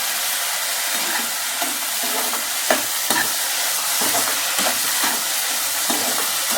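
Beans and small lentils poriyal with green chilli fries in a pan under steady stirring, making a continuous dense sizzle broken by soft scraping stirs and small clicks of the spoon, with no talking.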